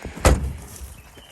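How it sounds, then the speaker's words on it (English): The door of an old Plymouth with a 2.2 engine and 4-speed is pulled open, a single short clunk near the start followed by faint rattling and quiet. "This one, if I can get the door open."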